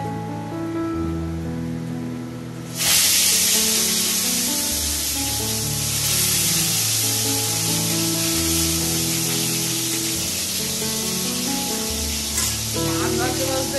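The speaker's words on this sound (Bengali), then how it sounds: "আর এখানে মাছটা ভাজছি" Bhetki fish frying in a pan: a steady, bright sizzling hiss starts suddenly a few seconds in and continues loudly to the end, with tonal background sound layered underneath.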